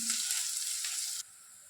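Chopped onions frying in hot oil until brown, a short close burst of bright sizzling that cuts off abruptly to near silence.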